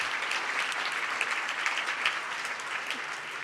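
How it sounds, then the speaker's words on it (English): Steady applause from an audience at a Philadelphia citizen of the year awards event honoring the hosts, a soft, continuous patter of many hands clapping at a distance with no talking. "give Larry Platt and Roxanne a real big round of applause"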